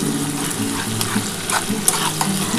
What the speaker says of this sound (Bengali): পেঁয়াজটা কিন্তু একটু লাল লাল করে ভাজতে হবে।